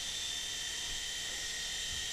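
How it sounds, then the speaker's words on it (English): An Audely Storm Eagle RC helicopter flies nearby, its small electric motor and rotor giving a steady, high-pitched whine that holds constant and fairly faint throughout. "It's really a really nice helicopter."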